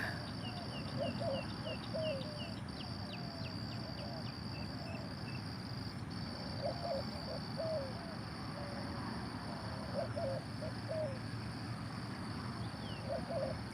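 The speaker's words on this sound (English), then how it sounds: "Oh, they're mourning doves." Soft, low mourning doves cooing in repeated short phrases in the distance, over a constant hum of crickets and insects.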